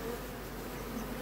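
Dense, continuous buzzing of many honeybees at a hive, a steady droning hum with no pauses, fairly close and even in loudness.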